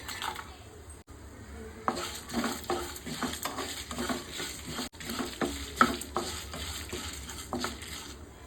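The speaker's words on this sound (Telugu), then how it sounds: "ఇంట్లో కొన్ని ఎల్లిపాయలు వేసుకుందాం." Garlic cloves fry in a pan for a brinjal and garlic chilli fry, giving a constant sizzle under repeated scraping and stirring strokes of a spoon against metal, close by and moderately quiet.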